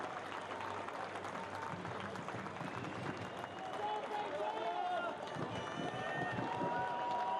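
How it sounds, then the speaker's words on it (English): Crowd at a women's soccer cup final between Bayern and Louisville rising into sustained applause and cheering for a departing player, a broad steady wash of clapping beneath continuous commentary. "leaves to a standing ovation from the crowd"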